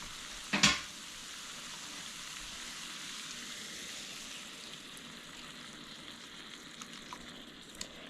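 Eggs go into a pan of frying potatoes: a brief splashy crackle as they hit, then a steady soft sizzle that carries on with a few faint pops.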